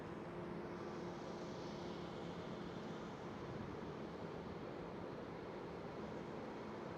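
An Air Malta airliner taxis at Amsterdam Schiphol airport, a faint, distant, steady jet engine rumble and whine that holds evenly throughout with no voices.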